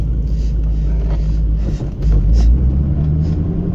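A 1996 Chevrolet Corvette C4 with a manual gearbox drives along, its steady low engine rumble dipping briefly and then swelling again as it shifts into second, loud and close throughout.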